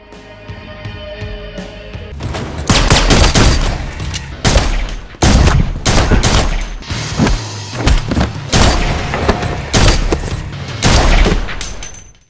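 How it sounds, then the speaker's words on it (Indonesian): Dense bursts of gunfire in a film crack and boom almost continuously, with rapid volleys and heavy thuds layered into a loud, chaotic action scene. "Ia mengatakan jika tetangga John mendengar suara tembakan dan melaporkan hal itu kepada kepolisian."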